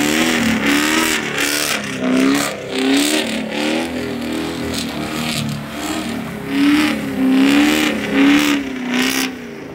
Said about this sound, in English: I have to end my videos with some type of reckless act, of course, doing a donut